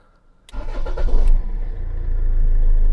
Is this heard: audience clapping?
no